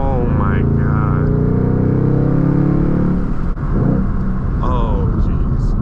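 A 2021 Ford Mustang Mach 1 with a six-speed manual, its V8 rumbling and revving hard from the driver's seat, a loud steady drone with a brief dip as though for a shift, and the driver talking over it.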